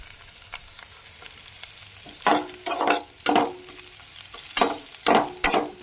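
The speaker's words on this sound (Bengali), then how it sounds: "এদিকে দেখুন সম্বার দিচ্ছি" Whole spices and bay leaf drop into hot oil in a pan for a fish curry with potatoes, giving a steady sizzle with several loud crackling spurts up close.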